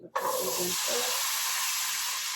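A brief spoken remark comes just before two cans of drained chickpeas drop into a hot pan and burst into a loud, steady sizzle that continues, close by.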